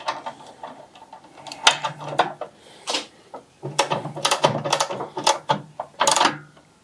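A workshop jack being let down under a BSA Goldstar motorcycle, giving a run of close, irregular mechanical clicks and ratcheting clunks in short bursts.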